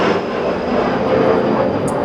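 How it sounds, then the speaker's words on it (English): A large airliner passes overhead, a loud, steady broadband jet-engine roar that fills the whole clip without easing, with no speech over it. "That's the big airliners."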